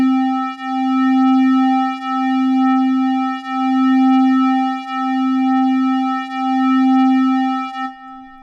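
A steady sustained synth-like tone on an audio track in Pro Tools with automated stereo panning, its level swelling and dipping in a slow regular rhythm about every 1.4 seconds, heard alone and ending abruptly near the close.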